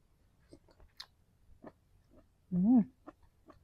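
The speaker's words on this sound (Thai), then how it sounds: "เห็ดมันจะเคี้ยวกรุบกรุบอร่อย" Soft, close chewing of mushrooms with a few quiet crunchy bites, followed by a brief vocal sound near the end.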